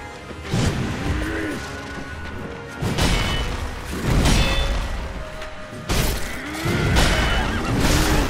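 Horse whinnies in Sekiro: Shadows Die Twice, repeated three times in loud, close bursts, with heavy combat crashes and impacts layered around each cry.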